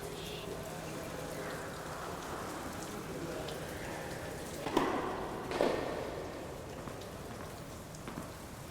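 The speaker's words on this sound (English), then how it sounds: "Raining pretty hard." Heavy rain pours steadily outside an indoor tennis court, a dense, even hiss that runs throughout, with a couple of brief louder bursts partway through.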